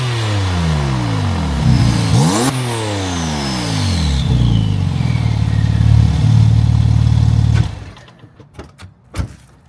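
A Porsche fitted with a new exhaust revs loudly and repeatedly, the engine note rising and falling in sharp swoops before cutting off to quieter pops and crackles at the end.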